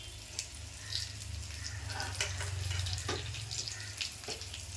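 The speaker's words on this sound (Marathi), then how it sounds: "आता त्या साईडने सुद्धा आपल्याला थोडं परतून ठेवायचं आहे." Stuffed capsicums, turned over to brown the other side, sauté in a pan with an even, soft sizzle throughout, steady and close, with a few faint clinks of utensils.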